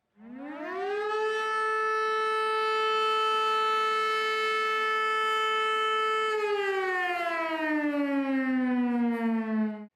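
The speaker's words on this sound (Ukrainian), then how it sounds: "Це той самий сигнал, який всі ми чуємо під час оголошення повітряної тривоги." An air raid civil defense siren wails at a steady pitch for several seconds, then slowly winds down in a falling tone, loud and sustained with no voices.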